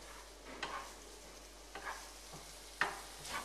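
Spoon stirring shakshouka in a pan, a few soft scraping strokes spaced out over a faint background sizzle, close and quiet with no talking.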